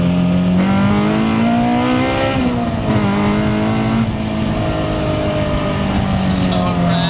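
A Honda S2000-engined, rear-wheel-drive Toyota Starlet revs hard and loud up close, its pitch climbing and falling through several sweeps in an unbroken roar.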